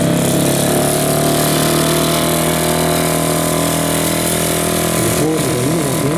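A loud 1952 Honda Dream E-type four-stroke motorcycle engine runs steadily nearby, a constant rumbling drone with a brief change in tone near the end.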